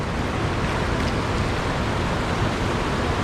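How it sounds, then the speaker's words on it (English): Waterfall in Cambodia pouring steadily, a dense broadband rush heard close and loud, continuous and unbroken with no voices over it. "just listen to this very therapeutic waterfall sound"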